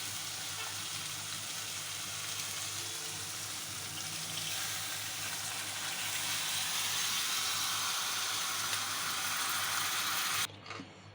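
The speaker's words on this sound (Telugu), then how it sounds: "ఇప్పుడు చింతపండు పులుసు వేసుకుంటాం" Tamarind juice pours in a steady liquid stream into a pot of Godavari-style fish curry, with a continuous splashing wash that stops abruptly near the end.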